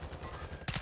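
Call of Duty Warzone gunfire in Vondel Park: rapid shots crackle throughout, then a louder, heavier burst of fire erupts near the end.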